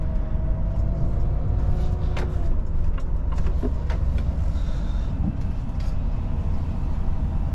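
A brand new Volvo FH truck accelerates on a roundabout, its engine rumbling loudly and steadily from the cab with scattered clicks and rattles.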